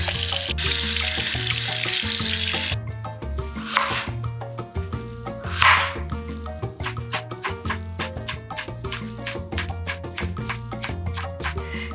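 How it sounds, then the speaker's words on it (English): Running tap water rinses cucumbers for sriracha pickles during the opening seconds, a steady splashing hiss that then gives way to background music with light knocks and clatter. "I need to wash and slice these cucumbers"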